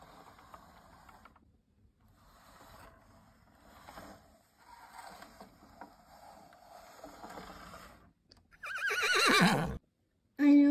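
Horses neigh loudly near the end, a bright whinnying burst close by, following a stretch of quieter mixed background sounds and shuffling.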